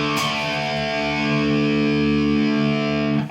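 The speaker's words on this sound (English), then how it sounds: "Go back to distortion here." An electric guitar played through a Chaos Audio Stratus pedal set to distortion rings out one sustained, heavily distorted chord, loud and alone, before it is cut short.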